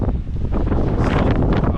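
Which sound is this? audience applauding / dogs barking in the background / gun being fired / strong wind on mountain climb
strong wind on mountain climb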